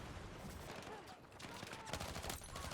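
Dense, rapid gunfire bursts from Battlefield 6 played on a ROG Ally, rattling continuously at moderate loudness through the whole stretch.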